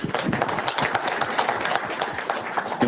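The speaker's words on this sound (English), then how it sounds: "Let's give that a round of applause." A room of people at a live truck drivers' meeting claps in a dense, steady round of applause that holds at an even level throughout, close and full.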